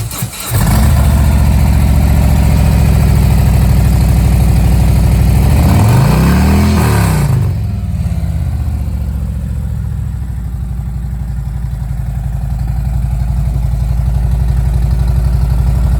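A 2018 Harley-Davidson Ultra Limited motorcycle fires up and settles into a steady, loud, close idle with a deep throbbing rumble that runs the whole time, with no talking over it.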